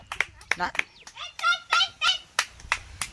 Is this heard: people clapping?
yes